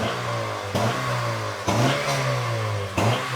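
A vehicle engine idles with a low hum, then revs sharply three times in quick bursts, each climbing and settling back. The sound is close and loud.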